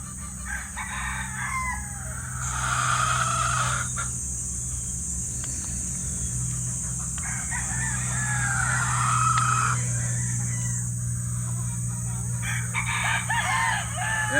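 Gamefowl roosters, stags and pullets, crowing repeatedly at several distances over a constant background hum and scattered clucks, loud and clear, with no one talking.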